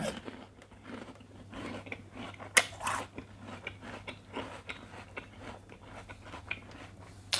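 Crisp bites and chewing of a large juicy snow lotus (yacon) root, close wet crunches repeating irregularly, with one sharp loud bite and quiet mouth sounds in between.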